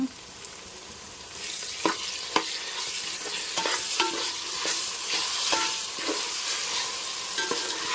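Ginger garlic paste fries in a pan for vegetable dum biryani, a close steady sizzle broken by repeated spoon scrapes and stirring clatter that builds after a quieter start.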